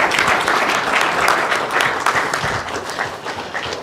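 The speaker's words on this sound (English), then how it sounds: "if everyone wants to give a round of applause" An audience of a few dozen people at a university roadshow event claps steadily and fairly loudly for several seconds, a dense continuous applause without voices on top.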